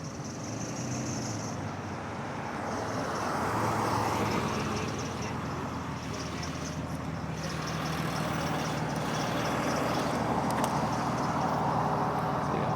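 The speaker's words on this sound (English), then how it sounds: "Of course, cars are coming." Cars and trucks roll past on a busy road at a crossing, a steady wash of traffic noise that swells around the middle, with no talk over it.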